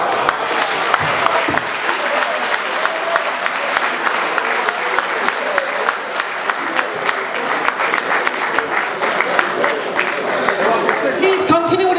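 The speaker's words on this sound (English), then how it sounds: "Please continue with a round of applause." Sustained applause from a conference audience at an Urhobo/Isoko gathering, dense steady clapping filling the room for the full stretch with a crowd murmur underneath.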